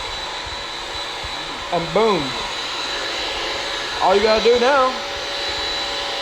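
A vacuum cleaner runs on the floor in a steady, constant whine while a person talks over it in two short bursts.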